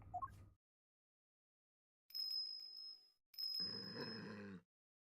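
Two bursts of a high, sustained ringing tone with shimmering overtones, a bell chime in the game Ace Attorney Investigations 2, after a brief low grunt at the start.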